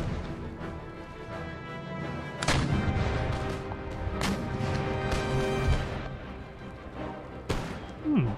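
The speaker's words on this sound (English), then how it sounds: "Oh, they're shooting at those guys." Musket volleys in Empire Total War, sharp cracks and a rumbling crash of massed fire standing out from the continuous battle din, with someone talking over it at times.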